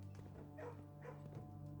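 Dogs bark in the mystery puzzle game Blue Prince, giving a couple of soft, muffled woofs over a steady background hum, faint and brief.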